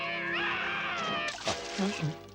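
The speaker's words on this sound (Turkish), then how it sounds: "Neyin var senin aptal kedi?" A cartoon cat in a Smurfs episode meows loudly in a long, wavering wail, then gives short lower cries, with a voice speaking alongside.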